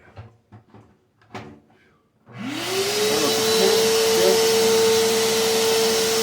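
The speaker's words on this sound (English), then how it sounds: "So once I vacuum" A vacuum cleaner switches on after some small knocks and handling sounds, spinning up and then running as a loud, steady whine and roar for several seconds.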